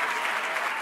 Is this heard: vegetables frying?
no